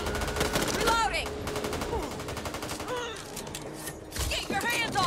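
Bursts of automatic gunfire from the Back 4 Blood zombie shooter rattle through the scene, loud and repeated, with players talking over the shooting and sharp creature shrieks sweeping in between volleys.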